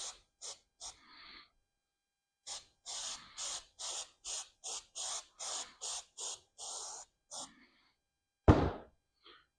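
Spray adhesive is applied to an interior part of a 1968 G20 van in a series of short, close hissing bursts separated by pauses, ending with a sharp thunk.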